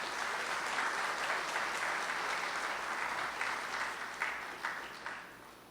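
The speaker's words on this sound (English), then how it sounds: "Please give him the biggest round of applause." Applause from an audience at a university ceremony installing a new chancellor, a sustained round of clapping that holds steady and then gradually thins out and fades toward the end.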